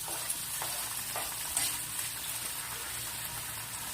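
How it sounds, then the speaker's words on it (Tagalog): Onion and tomato sautéing in hot cooking oil for a Filipino ampalaya dish, a steady dense sizzle and crackle close by, with a few soft stirring touches. "Pagkatapos natin igisa ang sibuyas at kamatis"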